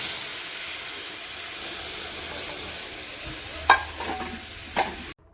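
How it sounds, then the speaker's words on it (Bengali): Boiled mung dal going into hot fried whole-spice tempering in a pan: a steady close sizzling hiss throughout, broken by two sharp splashy clatters near the end as it is stirred, with no talking. "এবার আমি সেদ্ধ ডালটা এর মধ্যে দিয়ে দিচ্ছি।"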